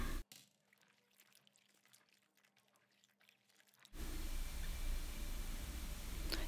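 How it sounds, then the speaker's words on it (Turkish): Water runs and splashes steadily over fresh okra as it is rinsed before straining; the flow starts abruptly after a quieter stretch of faint drips and clatter, then continues loud and close. "Tekrar duruluyorum ve bir süzgecin üzerine alıyorum."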